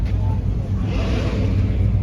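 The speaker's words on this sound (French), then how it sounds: "une belle GT3 RS 997 phase 2" A Porsche 997 GT3 RS phase 2 drives by on a street in Carmel during Monterey Car Week, its engine a steady low rumble throughout with a slight swell near the end.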